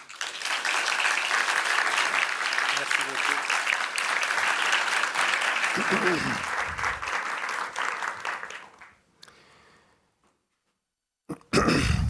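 Sustained audience applause welcoming the 2016 Dan Kiley landscape lecturer, Georges Descombes, to the podium; a dense, steady roar of clapping that fills the hall for about eight seconds, then fades out to near silence before a voice begins.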